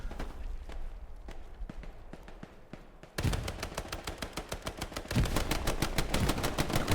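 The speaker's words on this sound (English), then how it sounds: "Grease guns going off." M3 grease guns firing in the World War II game Hell Let Loose: rapid bursts of automatic fire, distant and sparse at first, then a dense, louder barrage of repeated shots from close by, with no talking.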